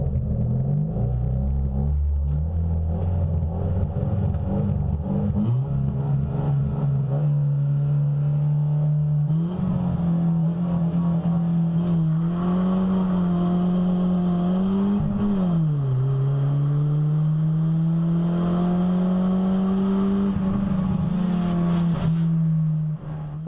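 Onboard a Ford Fiesta rallycross car racing at Mondello Park, its engine droning loud and steady, pitch rising and falling through gear changes and revs, with rattling cabin noise throughout.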